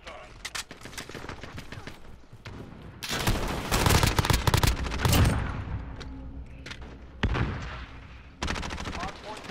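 Rapid bursts of gunfire from a multiplayer shooter video game, loud clustered volleys in the middle with scattered single shots before and after, with voices talking underneath.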